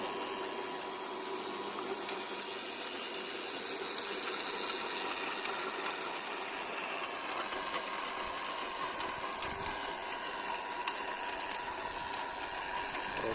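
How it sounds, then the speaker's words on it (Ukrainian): The small engine of a DIY motor cultivator with a tiller runs at a steady, even drone throughout, moderately close, with no talking. "то фреза включається"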